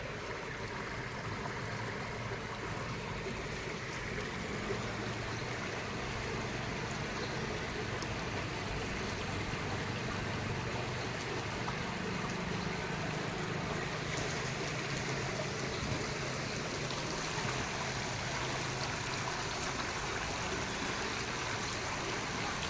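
Rainwater runs through a flooded street and market during a downpour, a steady, broadband rushing flow that holds evenly throughout, close by and continuous with no break.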